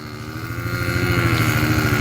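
A motorbike engine idles close by in the desert at Riyadh, a steady low rumbling putter that stays loud and even throughout, with no talk over it.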